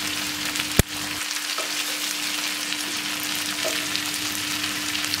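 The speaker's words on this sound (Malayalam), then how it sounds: "ഫ്രൈ ചെയ്തെടുക്കാം." Chicken pieces for Kozhikode biryani fry in a pan with a steady, dense sizzle and crackle, close and alone, opening with a single sharp clank as the pan is handled.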